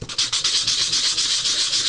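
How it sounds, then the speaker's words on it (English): A sanding block is rubbed back and forth over a plain chipboard tag, giving quick, close, rhythmic scratchy strokes, about eight per second. "just rub your sanding block over the top."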